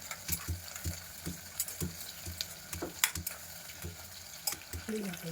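Onions frying with crushed ginger, garlic and green chili for tomato bath, a soft sizzle in the pan broken by repeated scraping stirs and occasional clinks, fairly quiet and close.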